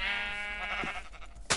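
Sheep in the video game Minecraft let out a long, clear bleat up close, followed by a sharp burst of noise at the end.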